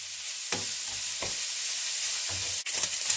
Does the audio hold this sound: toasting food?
yes